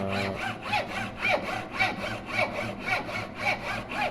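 A handsaw cuts a wooden piece shorter in rhythmic back-and-forth strokes, about eight rasping passes with regular pulses, close and clear with no voices.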